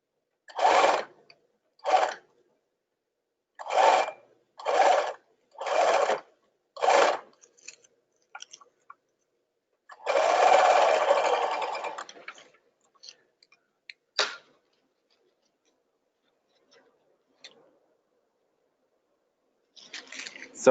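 A sewing machine stitches a tutu in short bursts of whirring, several brief runs, then a longer one, separated by quiet pauses and a few small clicks.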